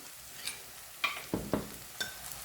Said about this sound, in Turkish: Şöyle bir karıştıralım.